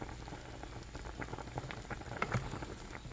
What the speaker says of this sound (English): Let it simmer